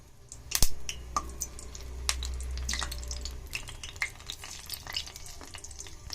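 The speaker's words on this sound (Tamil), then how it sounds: "பாருங்க, நம்ம எல்லா உருளைக்கிழங்கையும் எண்ணெயில் போட்டாச்சு. இந்த சலசலப்பு சவுண்டு வந்து அடங்கணும்." Boiled baby potatoes deep-frying in hot oil give a steady, crackling sizzle with scattered sharp pops and spits. The sound is close and continuous, with no voices.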